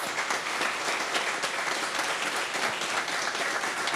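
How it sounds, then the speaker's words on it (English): Sustained audience applause for honorees at a perma plaque and road naming ceremony, steady and dense clapping filling the whole moment with no voices over it. "Please give a round of applause for all of our honorees."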